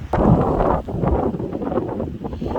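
Strong wind buffets the microphone in loud, rumbling gusts, with faint rustling behind it, on a seaside beach under black clouds.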